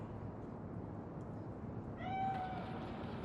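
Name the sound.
cat meowing in the video game Cyberpunk 2077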